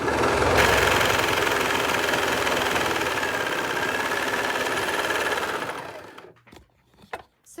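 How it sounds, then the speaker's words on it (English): A Brother Lock 1034DX serger stitches across fabric for a pair of bell pants, a loud, steady mechanical whir running continuously for several seconds before stopping abruptly, followed by a few faint handling clicks. "we're gonna sew or serge across this line right here"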